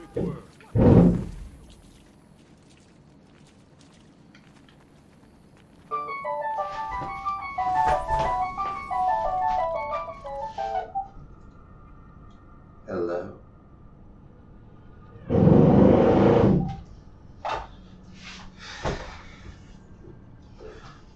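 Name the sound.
phone ringing with an incoming spam call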